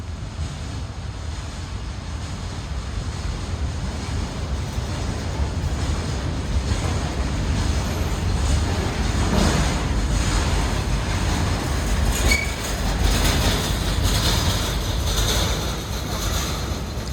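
A Norfolk Southern intermodal container freight train rumbles past overhead at length, a loud continuous roar with rattling and clanking cars and some wind noise on the microphone.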